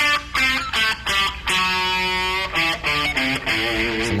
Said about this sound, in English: if you do the full pentatonic scale with the Dorian note